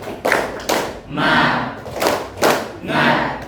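Indonesian classroom performing the rhythmic tepuk semangat chant, students clapping in loud grouped bursts of claps and thumps alternating with shouted chanting voices, close and energetic.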